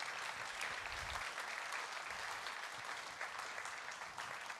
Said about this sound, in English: Give our panelists another big round of applause,